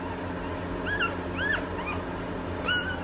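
Day-old newborn puppies whimper with a few thin, high squeaks and rising whines over a steady background hum, fairly quiet and close.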